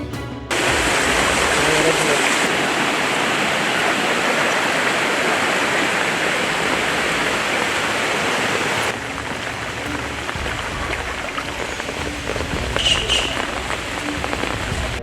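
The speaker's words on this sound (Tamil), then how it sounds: "கனமழையின் காரணமாக சானல் நிரம்பி வீடுகளில் வெள்ளம் பெருக்கெடுத்து ஓடுகிறது" Heavy rain pours down as floodwater rushes through houses in a flooded village, a loud continuous dense roar of water that shifts in texture partway through, with no clear voices.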